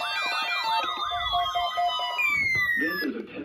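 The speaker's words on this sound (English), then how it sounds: "This is a test of the National Weather Service weather radio warning alarm" A weather radio warning alarm sounds during an emergency alert test: loud warbling, siren-like tones sweep up and down, with a brief steady pitch partway through, continuing for several seconds.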